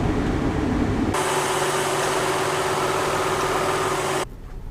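A 2003 Mazda Tribute engine idling with the air conditioning on, a loud steady droning hum that shifts in tone partway as the AC load kicks in, then drops near the end.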